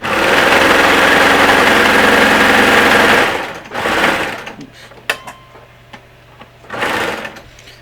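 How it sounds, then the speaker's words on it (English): A sewing machine chaining off after stitching a shirt armhole, running steadily and loudly for about three seconds before stopping, followed by a few short bursts of stitching and light handling noises. "put the presser foot down, and chain off"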